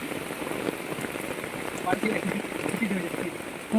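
Steady rain falls and patters on surfaces in a village at night, a dense even hiss close by, with faint talk beneath it.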